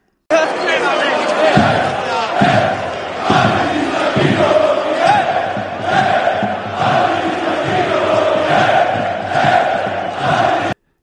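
A large crowd of Atlético de Madrid football fans chants in unison before a match, with rhythmic claps or stomps, loud and echoing as in a stadium.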